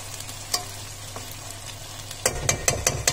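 Country chicken cooking in a pan with onions, a steady sizzle and frying hiss with a few stirring clinks, growing louder and busier near the end; no talking.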